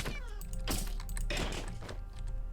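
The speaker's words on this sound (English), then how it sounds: "I'm just hearing meow, meow, meow" Cat meowing in the Minecraft modpack Roguelike Adventures and Dungeons 2, several short rising meows spaced through the clip, close and fairly clear, mixed with clicky keyboard typing in the background.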